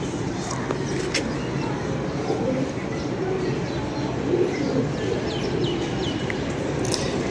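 Flock of pigeons cooing and flying over a rooftop loft, with a continuous murmur of coos and occasional sharp chirps and wingbeats over a steady outdoor background, with some faint voices.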